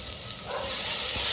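Tomatoes frying in oil with salt and turmeric in a pan, a steady hissing sizzle that swells slightly, close and without talk.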